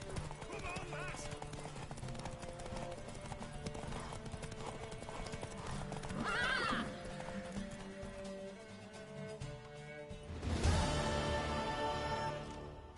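Horse hooves clip-clop steadily in The Witcher 3: Wild Hunt, joined by a brief whinny from the mare, while voices talk over the game action.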